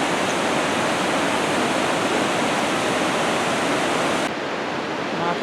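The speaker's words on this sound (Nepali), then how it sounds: "माथि डाँडाबाट अर्को झरना पनि छ यहाँ" Waterfall near a mountain ridge on a trek to Annapurna Base Camp, a loud continuous broadband rush of falling water, steady throughout with no voices.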